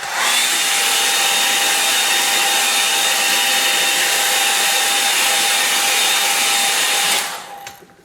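Hair dryer blowing steadily to dry a watercolour painting of dawn over an estuary, a loud continuous whine with a faint tonal hum that runs unbroken for about seven seconds, then cuts off and fades.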